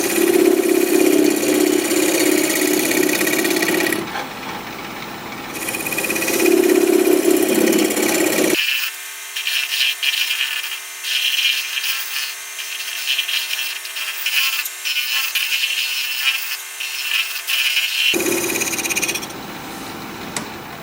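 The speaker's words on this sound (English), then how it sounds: "Now I'm going to use my negative rake scraper, see if I can smooth up this outside a little bit." Negative rake scraper smoothing the outside of an olive wood dish spinning on a wood lathe, a steady scraping hiss over the motor's hum, lifting and stopping in spells, then a lower-toned run with the lathe still turning.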